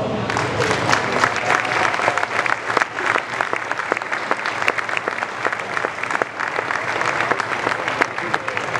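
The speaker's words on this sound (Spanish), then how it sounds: "Por favor, un fuerte aplauso." An audience at a dairy cattle handlers' show-ring contest in Tolosa gives strong applause, dense and loud throughout, with a steady wash of clapping from many hands.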